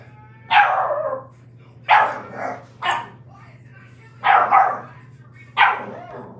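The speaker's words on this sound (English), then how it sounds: "Oh, look at our little puppy." A small puppy plays and barks in short, sharp yips, five separate bursts spaced out over a low steady hum, close and loud, with no talk.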